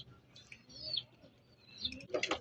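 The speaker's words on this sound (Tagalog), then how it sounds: "ito na isa kong kalapate" Pigeons in a loft, including a dirty blue bar racing pigeon, give soft faint chirps and a brief flutter of wings, with a busier burst of calls near the end.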